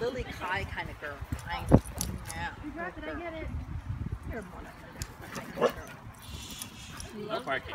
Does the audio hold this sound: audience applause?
no